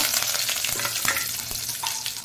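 Curry leaves sizzling in hot oil, a steady close frying hiss with crackles and a few stirring knocks, no voices.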